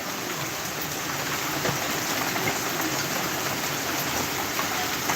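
Steady rain pours down, a dense continuous hiss of drops falling on surfaces, even and unbroken throughout.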